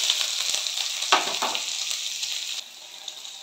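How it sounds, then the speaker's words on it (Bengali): Onions frying in oil in a pan just after a tempering of dried red chili and spices for lentil dal, a steady close sizzle with a brief louder burst of crackle near the middle, no talking. "আমি এবার এই পেঁয়াজগুলোকে একটু ভেজে নেব।"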